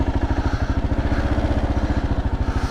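A 2024 Kawasaki KLR 650 motorcycle engine runs close by with a loud, steady, rhythmic thumping idle while the bike is turned around, with no talking.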